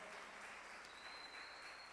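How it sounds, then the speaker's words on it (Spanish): Congregation applauding a visiting pastor at a church service, a steady wash of clapping that holds for two seconds, fairly faint and distant. "un aplauso a Lili"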